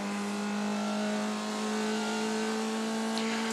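The little four-cylinder engine of a Formula Vee in iRacing holds a steady, high revving drone with strong tonal harmonics, sustained without a break and with no voices.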